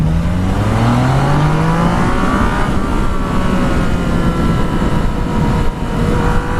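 A Yamaha FZ-09 motorcycle engine pulls hard while riding, its rising whine climbing steadily in pitch then settling into a sustained drone under rushing wind noise.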